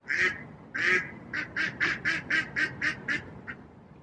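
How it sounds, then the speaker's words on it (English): Ducks by a lake quack in a series of about a dozen loud, close calls, two longer ones first and then a quick regular run, with no talking. "but instead I have ducks to listen to"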